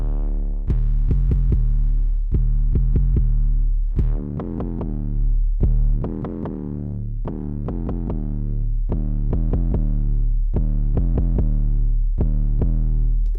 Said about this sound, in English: I can hear the signal that's being clipped.